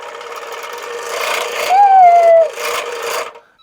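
An old children's toy saw cutting wood makes a steady, loud mechanical buzz with a thin whining tone that swells in the middle, then the noise cuts off.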